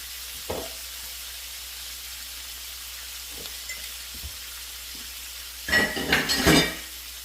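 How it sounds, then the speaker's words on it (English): Oil sizzles steadily in a frying pan during gravy-making, a soft continuous hiss with faint stirring ticks, then a louder burst of spattering sizzle near the end; no talking. "I just added a little bit more oil to the pan"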